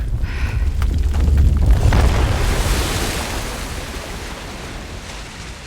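Waves of water in the video game Uncharted: The Lost Legacy, a loud, steady broadband rush and rumble that swells in the first two seconds and then slowly eases off, with no talking.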